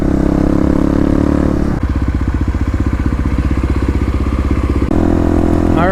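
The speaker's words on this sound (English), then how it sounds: "Plus you get that sweet exhaust note coming out the back." A Kawasaki KLX351 dirt bike runs close by, moving from a steady rumbling idle into a burst of fast, rhythmic exhaust pulses as the engine is revved, then settling back to idle.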